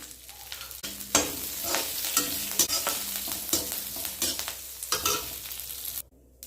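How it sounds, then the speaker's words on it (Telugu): Red chillies and curry leaves fry in oil in a pan, crackling sizzle punctuated by repeated stirring scrapes in uneven bursts, close by, ending abruptly in quiet. "పసుపు, కరివేపాకు బాగా గరగర అనేదాకా వేయించుకోవాలి."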